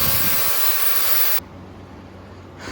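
Steel leaf spring mount being cut for a Ford Bronco chassis swap onto an F-150 frame, with a harsh, loud, continuous cutting noise that stops abruptly partway through, leaving quieter workshop background.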